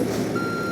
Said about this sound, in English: you want to hit 4 just to make the beeping noise go away